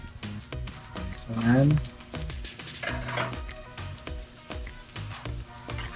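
Minced garlic sizzling in hot cooking oil in a pan for fried rice, a steady close frying crackle with stirring scrapes and a short spoken word over it.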